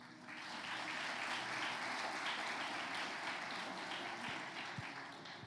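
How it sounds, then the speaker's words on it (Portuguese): A church congregation bursts into sustained applause, a dense, even wash of clapping that swells and holds, heard from a distance at a sermon. "Aplauda Jesus."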